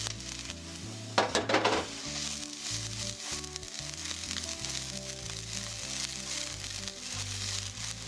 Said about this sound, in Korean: 팬에 식용유 1작은술을 넣고 달군 뒤 우엉을 15초에서 20초 정도 볶아주세요